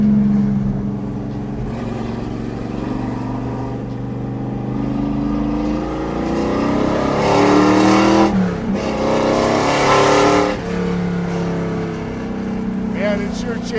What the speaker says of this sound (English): Man, it sure changes the tone of it when you open those cutouts, man. It gets loud.